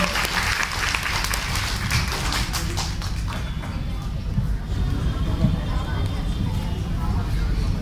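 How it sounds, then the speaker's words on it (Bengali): Audience clapping for Rupa Bhowmik at an anniversary celebration, a dense patter of hands that thins out partway through, mixed with background chatter and a voice talking. "আমি আরো জোরে একটা করতালি প্রত্যাশা করবো রূপা ভৌমিককে"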